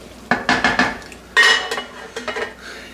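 A metal lid clanks onto a pot of jeera rice, followed by a few more sharp clinks and rattles of cookware, loud and close with short pauses between.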